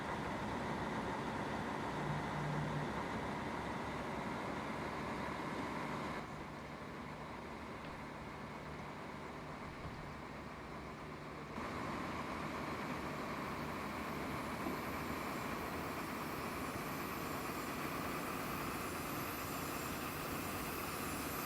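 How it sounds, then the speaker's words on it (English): Diesel ICE TD train engine in Train Simulator 2015 on the Hamburg–Hanover line, a steady loud rumbling drone that drops in level briefly midway, then returns and continues without voices. "So this is a diesel. Although with that racket in the background,"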